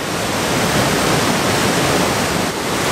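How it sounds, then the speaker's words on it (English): A waterfall roars with a dense, steady rush of falling water, loud and close, filling the air without pause. "can bring you to some cool waterfalls just like these"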